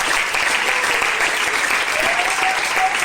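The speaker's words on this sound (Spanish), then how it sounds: "dale un fuerte aplauso al Señor" Church congregation giving a loud, sustained round of applause during a sermon, a dense steady wash of clapping with faint voices underneath.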